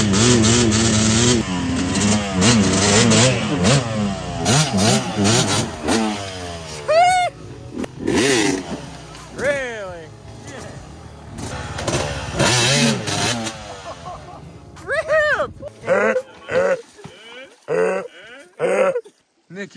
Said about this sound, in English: Kylan and Creed are gonna see who can get up further it with the dirt bikes.